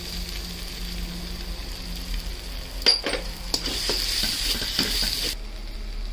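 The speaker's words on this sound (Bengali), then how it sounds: "এখানে পোস্ত আর চালমগজ বাটাটা দিয়ে দিচ্ছি। ভালো করে কষিয়ে নেব।" Poppy seed and melon seed paste sautéed in a pan: a steady soft sizzle with scraping stir strokes and a few sharper clinks of a utensil against the pan, close by, no voices.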